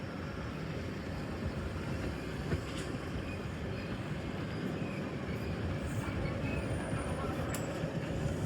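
Devagiri Express running into Kamareddy railway station, heard from on board as a steady, dense low rumble of wheels and carriages that carries on for the whole stretch, with a few faint, brief high squeals and clanks on top.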